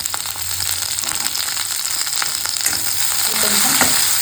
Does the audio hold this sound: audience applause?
no